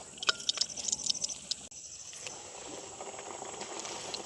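Hot oil boils and crackles in a pan for frying plantain vada in a village kitchen, with sharp sputtering pops at first that settle into a steady, close frying hiss.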